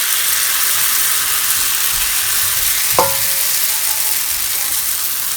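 Jamaican fritters frying in hot oil, a loud, continuous hissing sizzle with a single sharp clink near the middle.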